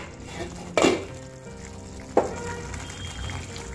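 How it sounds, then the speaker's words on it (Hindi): Mixed sprout curry gravy simmering in a pan, a soft continuous bubbling with two sharper splutters standing out briefly, close and fairly quiet. "चेक कर लेते हैं हमारी ग्रेवी उबल रही है।"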